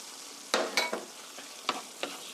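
Chopped tomatoes stir-fry in a pan for penne tomato sauce, a soft steady sizzle punctuated by several quick spatula scrapes and tosses in uneven bursts.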